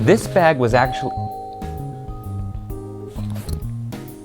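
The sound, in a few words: doorbell ringing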